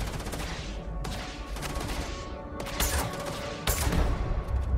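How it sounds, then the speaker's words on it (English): Gunfire in the video game Starfield, with a sniper rifle in use: a steady crackle of shots continuing throughout, punctuated by two louder, sharper reports near the end. "Let's go back to the sniper rifle."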